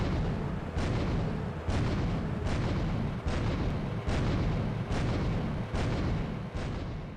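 Tank cannon in Grand Theft Auto The Definitive Edition fires over and over in a glitch, about eight heavy booming blasts at a steady rapid rhythm over a continuous loud engine rumble.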